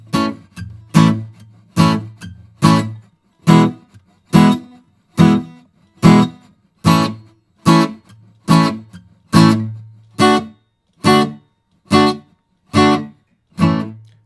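Steady strummed guitar chords, about fifteen evenly spaced strokes with clear pauses between, played alone and close.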